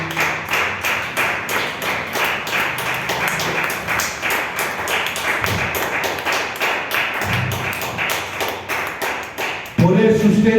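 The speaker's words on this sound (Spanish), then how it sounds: "Den una ofrenda de palmas a Dios." A church congregation claps hands as an offering to God during a sermon, a steady fast rhythm of many hands filling the room for about ten seconds, then breaking off as a voice begins speaking.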